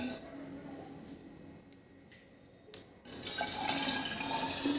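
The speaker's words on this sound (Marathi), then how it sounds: "लगेच पाणी भरून चेक करूया।" A bottle is filled with water to check it for leaks: quiet, faint background at first, then a sudden steady rush of pouring water close by that continues to the end.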